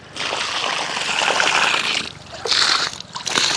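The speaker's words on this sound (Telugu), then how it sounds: "ఇదిగోండి నీళ్ళు వేస్తున్నాను" Water splashing and trickling as it is poured onto newly planted rose plants in a home flower garden, a steady close pour with brief pauses and renewed bursts near the end.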